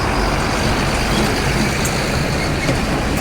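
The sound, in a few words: trucks passing on a damaged highway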